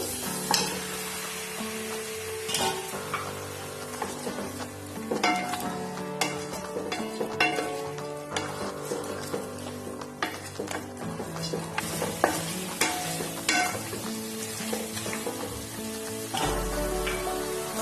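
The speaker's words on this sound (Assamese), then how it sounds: "মই এতিয়া অলপ সময় মাংসখিনি ভাজি ল'ম।" Local chicken meat frying with turmeric, salt, onion and spices in a pan, a steady close sizzle broken by frequent scraping and clinking stirs against the pan, continuing throughout with no talk.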